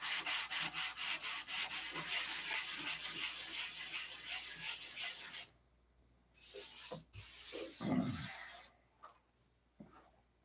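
Doped tissue covering on a model airplane being sanded: rapid rhythmic rubbing strokes, close and fairly loud for about five seconds, then a pause and a few shorter scrubbing bursts with light handling knocks.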